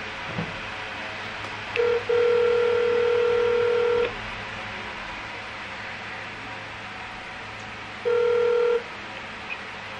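Telephone keypad dialing tones ring out on a call, a long steady tone followed later by a second shorter one over faint background hiss, with no talking.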